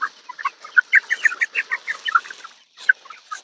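Free-range chickens roaming a mixed farm cluck in quick, uneven bursts, close and clear, with a brief pause before a few more clucks; no one speaks.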